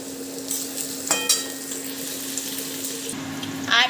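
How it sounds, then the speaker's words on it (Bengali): Cashew nuts and raisins fry briefly in a pan for fried rice, a soft steady sizzle with a few sharp stirring scrapes, no voices. "দেখো কাজু বাদাম আর কিশমিশটা ভাজা হচ্ছে।"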